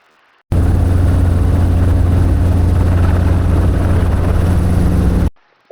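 A Robinson R-22 helicopter takes off from a pad, its loud, steady rotor and engine drone starting abruptly and holding close and constant for about five seconds before cutting off.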